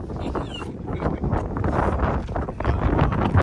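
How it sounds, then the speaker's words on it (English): Strong wind buffets the microphone outdoors beside a Porsche 944, a loud, close rumble with crackling gusts throughout. "This wind is terrible."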